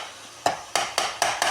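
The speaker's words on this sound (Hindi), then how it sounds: "अब हम इनको भूनेंगे।" Tomatoes and onions fry in a cooker as a utensil stirs them in five rhythmic scraping strokes over a soft sizzle, close up and without talk.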